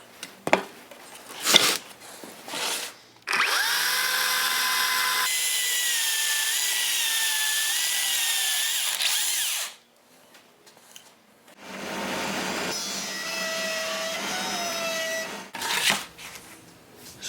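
Power tools cut and plane a timber board, infested with ash borer, for 100-year-old stagecoach irons. Two long, loud whining passes of several seconds each, separated by quiet handling knocks and rubbing.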